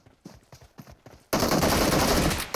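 PUBG Mobile gunfire: a few spaced single shots, then a sudden continuous burst of rapid automatic fire, loud and close, with no talking over it.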